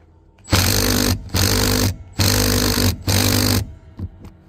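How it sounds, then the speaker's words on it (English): An impact wrench hammers at stubborn bolts on a 1991 Ford Bronco, firing in four loud, close bursts of rapid rattling, each about half a second to a second long, separated by short pauses. "evidently this impact doesn't have quite what it needs, so we'll get the ratchet"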